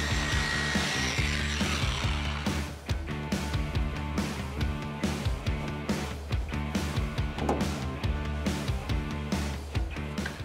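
A car polisher runs steadily on a vehicle panel during a Toyota 4Runner build, its motor whirring loud and close with a pulsing, slightly wavering drone and no pauses.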